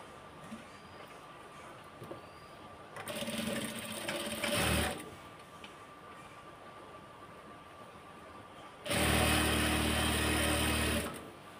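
Two loud bursts of a sewing machine stitching a salwar seam, one lasting about two seconds and a longer, louder run of roughly three seconds later. Quiet room tone fills the gap between them.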